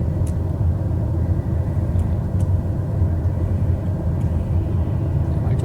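A TBM930 turboprop in Microsoft Flight Simulator 2020, throttle pushed high with full flaps on approach, gives a steady, loud, broadband engine rumble and drone that holds without a break throughout.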